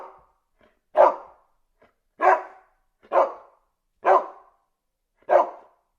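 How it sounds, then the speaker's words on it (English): A dog gives five single, evenly spaced barks with quiet gaps between them. The barks are moderately loud and close, with no other sounds. "dog,"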